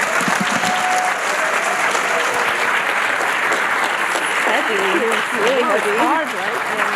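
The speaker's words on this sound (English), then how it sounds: "give another round of applause to that young lady" An audience gives a loud, sustained round of applause for a young lady, dense continuous clapping that fills the room, with voices and cheers rising over it near the end.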